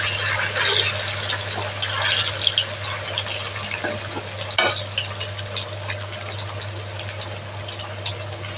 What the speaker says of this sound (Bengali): দুটো কড়াই তেল জায়গা আছে, তো আমি দুটো করে ভেজে দিচ্ছি।